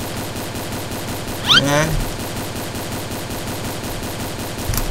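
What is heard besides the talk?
gunfire in a Roblox shooting video game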